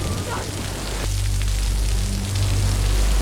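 Steady rain falling at night, a dense, continuous hiss and patter that stays loud and even throughout, with a low rumble underneath and no voices.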